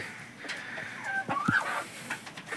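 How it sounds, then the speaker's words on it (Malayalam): Karinkozhi (Kadaknath) black chickens on a mixed farm give a few soft clucks and a brief rising call, moderately close, over steady outdoor background noise. "ഒറിജിനൽ ആയിട്ടുള്ള കരിങ്കോഴി ഉണ്ട്"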